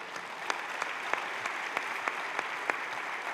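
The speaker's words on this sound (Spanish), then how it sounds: "Dale otro aplauso al Señor." Congregational applause at a Christmas church service, a soft, even wash of clapping with a few sharper individual claps standing out, fairly distant and without talk.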